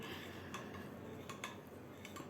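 A spoon clinks faintly against a vessel while stirring homemade spiced buttermilk with coriander leaves, three or four light taps over a soft, quiet background.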